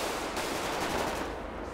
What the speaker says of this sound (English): There is so much gunfire.